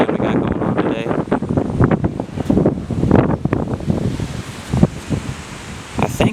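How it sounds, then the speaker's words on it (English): Strong gusty wind blowing outdoors beside a car on coilover suspension, loud rumbling buffets battering the microphone continuously, with a voice speaking under the roar. "I don't know if you'll be able to hear that with this nasty wind we got going on today"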